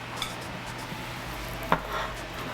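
A spoon scrapes and clinks against a dish while scooping enchilada sauce, with a couple of soft taps and one sharper clink, close by over a low background hum.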